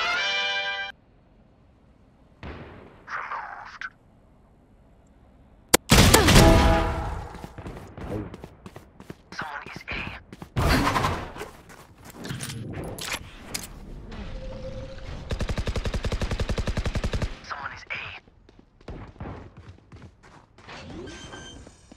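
Valorant weapon fire in a round, loud broadband shots and a sustained rattling burst, separated by quieter gaps, effect cues and spoken game callouts.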